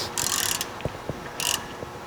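Bolts being tightened with a 3/4 inch socket and wrench while a ABI Force Z-23 electric spreader is installed make two short, close bursts of ratchet clicking, separated by faint knocks and taps.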